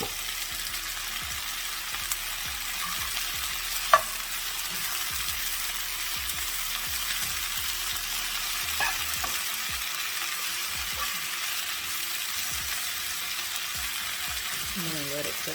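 Steelhead trout fries in a pan with a continuous close, crackling sizzle, broken by occasional light scrapes and taps, while a person talks quietly underneath.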